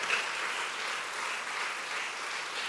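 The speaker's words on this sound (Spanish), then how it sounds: "Vamos, aplauden al Señor." A church congregation applauds steadily, a dense, even patter of many hands clapping at moderate volume throughout.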